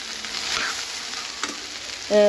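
Okra sautés in a pan, a soft steady crackling sizzle with faint stirring scrapes throughout, ending in a short tonal beep near the close.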